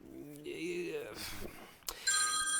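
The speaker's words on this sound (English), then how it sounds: "That was my phone." A mobile phone rings, a bright, electronic ringtone that cuts in abruptly at the end after a stretch of talking, loud and close.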